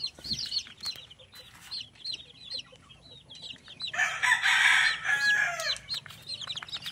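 Day-old chicks peep in rapid high chirps throughout, while adult chickens break in with a loud burst of clucking and squawking partway through, close by in a farm setting, no talk.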